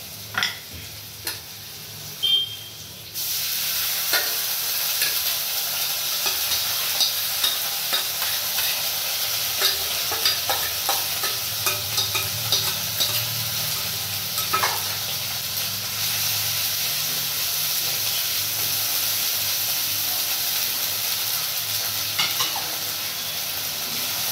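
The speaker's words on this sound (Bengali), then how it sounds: "আদা রসুন পেঁয়াজ ভাজা হয়ে গেছে, দেখুন তেলও রিলিজ করতে শুরু করে দিয়েছে চারপাশ দিয়ে" Ginger, garlic and onion paste frying in oil in a pan gives a loud, continuous sizzle close by, broken by regular scraping stirs throughout, with no voices.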